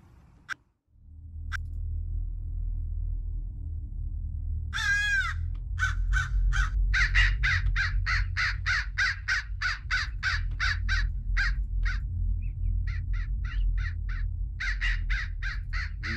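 A crow caws repeatedly in the video game Hello Neighbor, a steady run of harsh calls over a constant low rumble, with a short bird squawk just before the series begins.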